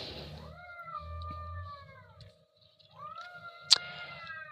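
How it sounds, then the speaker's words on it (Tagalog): A cat lets out two long, drawn-out meows near the microphone, separated by a brief quiet gap, with a sharp click or knock between them and a low background hum. "ang ingay ng pusa"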